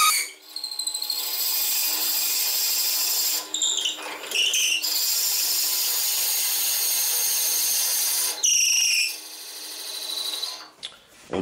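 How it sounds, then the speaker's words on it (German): A wood lathe drilling a hole into a turned wooden workpiece: a steady, loud, high-pitched grinding whine that breaks off twice for short pauses while chips are cleared, then resumes. No one speaks. "Und dann haben wir schon unser Loch reingebohrt."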